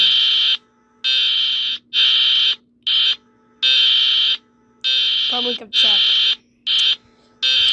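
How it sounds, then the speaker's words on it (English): An electronic alarm beeps in a steady series of loud, high-pitched pulses with short gaps between them, and a voice speaks briefly partway through. "that sounds like someone's trying to make an alarm, but it fails miserably"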